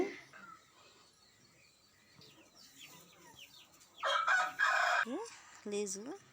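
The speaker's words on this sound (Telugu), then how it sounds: "కోడి పుంజులు అయితే ఇలా ఉన్నాయి" A rooster crows near the end, with chickens clucking and small birds chirping faintly around it in a rural yard. The crow and clucks stand out clearly over a quiet background.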